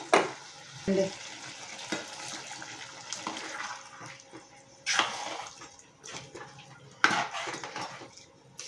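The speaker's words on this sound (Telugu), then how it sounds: "ఇలా తిప్పుకొని బాగా చక్కగా అన్నీ కలుపుకొని" A spoon stirring a potato curry in a pan, with scraping strokes in irregular bursts over a soft sizzle.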